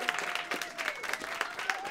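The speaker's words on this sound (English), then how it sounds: "More clapping." A studio audience claps in a short, lively burst while a voice talks over it.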